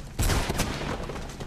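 Gunfire in Mirror's Edge: a loud burst of rapid shots that opens sharply and trails off into scattered quieter reports.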